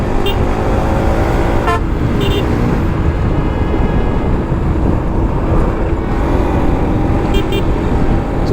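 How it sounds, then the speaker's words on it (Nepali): A vehicle horn sounds in a few short toots over loud, steady engine and road rumble during a ride near Manang Bazaar. "1 हर्न मारेँ है मैले नि।"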